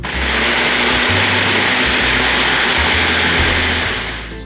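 Dried garlic being ground into powder in an electric grinder, a loud steady motor whir with the pitch dipping and rising as it runs, cutting off at the end.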